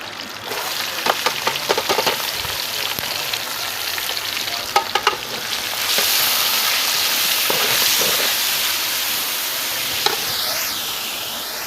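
Onions frying in a pan for aloo chicken shorba, a steady close sizzle and hiss with scattered sharp crackles and stirring clicks, growing louder and denser partway through, with no talk.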